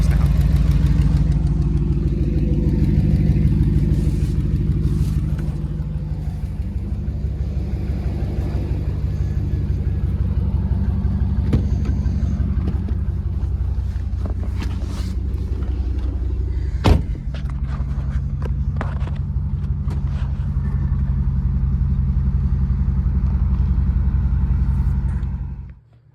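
A Dodge Ram 1500 pickup with the 5.7L Hemi V8 rumbles at a low steady idle while backing off ramps, close and loud, with a single sharp knock midway before the engine sound cuts off.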